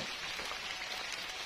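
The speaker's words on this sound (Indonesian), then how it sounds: "Hujan badai" Heavy rainstorm during freshwater prawn fishing, with dense, steady hissing rain pouring down close by and unbroken throughout, with no voices.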